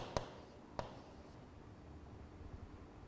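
Writing an equation on a board during a physics lecture: two short, sharp taps of the marker or chalk striking the surface, followed by faint, quiet scratching, all soft and close.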